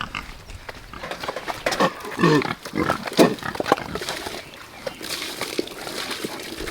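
Pigs in a garden they have been tilling give low grunts and snorts amid wet splashing and sloshing through mud, close and irregular, with a person speaking briefly.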